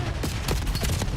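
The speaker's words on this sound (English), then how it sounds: "Starting things off with a Hailer gunfire" Gunfire from a Hailer weapon in a Call of Duty League Search and Destroy match, a quick run of rapid shots with sharp repeated cracks at moderate loudness.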